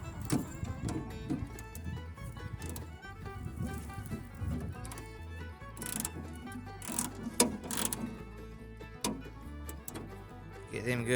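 Two 10mm bolts are tightened on a 2005 Toyota Tundra tailgate latch with a ratchet, giving bursts of clicking pawl ticks and metallic clinks alongside quiet talk.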